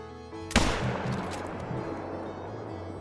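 A single hunting rifle shot rings out in the Call of the Wild hunting game, a sharp loud crack with a long rolling echo that decays slowly over the riverside terrain, no talk over it.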